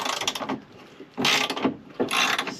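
A ratchet clicks rapidly in three bursts while loosening bolts on a camper van swivel seat in a Ford Econoline conversion, close and crisp with short pauses between strokes.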